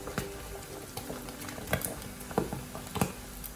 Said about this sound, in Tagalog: Kung mapapansin nyo guys, batch by batch ang pagluto ng ating chicharon.